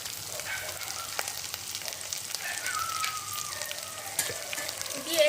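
Garlic masala with turmeric and salt sautéing in a pan for a vada pav chutney, a soft steady sizzle with faint scraping and stirring sounds at moderate distance, no talking.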